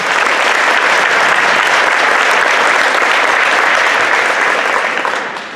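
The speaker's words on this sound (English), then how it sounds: "You give them a round of applause." Sustained audience applause at a spring fifth-grade school band concert, a dense, even wash of many hands clapping for about five seconds before tapering off at the end.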